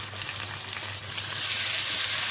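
Shawarma meat frying in a hot pan for a Syrian-style home recipe, a steady close sizzle with crackling hiss and a low hum beneath, growing slightly louder toward the end with no voices.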